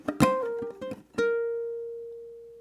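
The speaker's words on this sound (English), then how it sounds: "that's what it sounds like on the ukulele" A ukulele plays a funk riff: quick muted percussive strums and plucked notes, ending on one ringing note that slowly fades.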